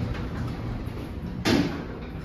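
An EPL hydraulic service lift door with a Schindler motor slides shut at Toowong Village, a smooth rolling rumble ending in a firm thud, close by over a low mechanical hum.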